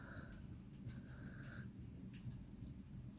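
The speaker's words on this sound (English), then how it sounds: "My dog wants in." A dog wanting to come inside, giving a few faint whimpers and whines under a low background murmur, quiet and somewhat distant.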